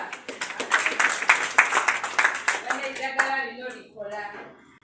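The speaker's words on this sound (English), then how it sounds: "Let us clap for her." An audience at a workshop claps for Auntie Tina: a burst of dense, close applause for about three seconds that fades as a voice starts talking over the tail end.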